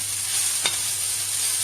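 Peppers stir-frying in a pan for noodles, a steady close hiss of sizzling with one brief scrape of a utensil, no voices.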